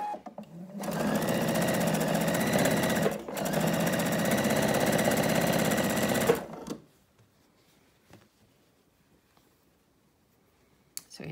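A sewing machine stitches down strips on a raw-edge denim quilt-as-you-go block. A loud, fast, steady whirring run is broken by a brief pause, then stops abruptly, leaving near silence with faint clicks.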